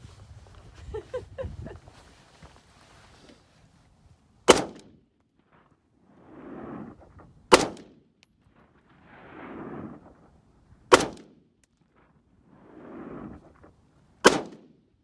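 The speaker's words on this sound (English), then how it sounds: "Having some fun, shooting some pins, racing my family here." Four sharp rifle shots crack at steady intervals of about three seconds during an outdoor bowling pin competition at 225 yards, each followed by a rumbling echo and distant thud. A short low murmur comes before the first shot.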